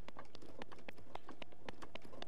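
Horse galloping in Zelda: Breath of the Wild, a quick, close, rhythmic clip-clop of hooves repeating steadily throughout.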